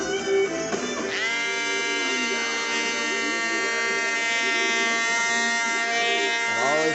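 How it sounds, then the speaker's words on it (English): An electric sander works an oak cabinet with a steady, loud buzzing drone that holds nearly unbroken for several seconds, its pitch shifting slightly as the tool is pressed and moved across the wood. "Always keep the sander moving"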